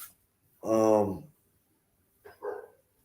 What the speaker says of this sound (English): My dogs are barking, y'all, in the background.